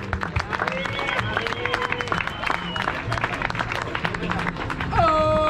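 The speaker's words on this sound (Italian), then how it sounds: "ancora un grande applauso" A crowd applauds a bike polo medal ceremony on a beach with dense, sustained clapping, mixed with cheers and shouts, while a voice speaks over it toward the end.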